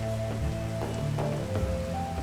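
Rain falls steadily in the PEAK video game, a continuous patter heard together with sustained musical tones and no talking.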